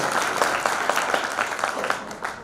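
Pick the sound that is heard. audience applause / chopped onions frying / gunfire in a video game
audience applause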